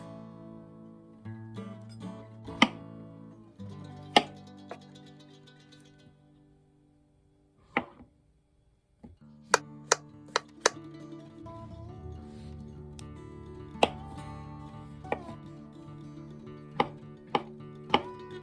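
Mushrooms with dark spots being chopped with a knife on a cutting board: sharp, close, irregular thuds, some in quick runs and others spaced apart, with a brief quiet gap midway.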